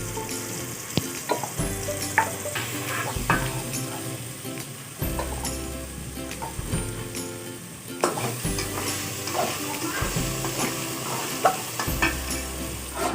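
Masala with crushed red chilli, turmeric and salt being fried for chicken liver: a constant sizzle under repeated rhythmic scraping strokes of a spoon against the pan, no talk.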